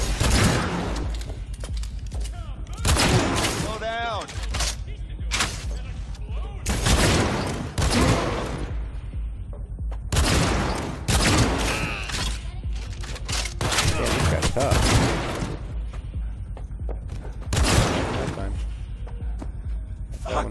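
Bursts of video game gunfire crack repeatedly, near and loud, mixed with explosions and clanks while a player talks excitedly throughout.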